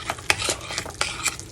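A spoon or utensil stirs mashed potatoes with poured-in chicken broth in a pot, giving close, wet scraping and clinking strokes in an uneven rhythm, alone without talk.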